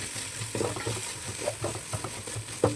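Ground red chilli paste fries in a pan for Ambur chicken biryani, a soft steady sizzle broken by small crackles and the scrape of stirring, close and fairly quiet, with no talking.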